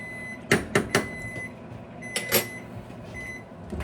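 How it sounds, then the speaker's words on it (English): A low microwave oven hum, heating sauce, runs under a quiet steady tone, broken by several sharp clicks and knocks in two clusters, close by. "Be careful when you take stuff out of the microwave."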